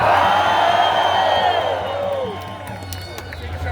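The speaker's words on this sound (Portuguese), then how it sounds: "Quem quer que o Xandão caia, dá um grito aí." Political rally crowd in Belo Horizonte shouting and cheering loudly, a roaring burst of yells and whoops that swells at first and then eases to a lower, sustained crowd noise.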